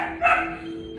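A dog gives a single sharp bark close by, loud and brief, with a faint steady hum behind it.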